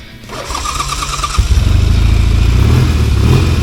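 A 1975 Norton motorcycle engine cranks briefly, catches and settles into a loud, steady, throbbing idle close by, with no talk over it.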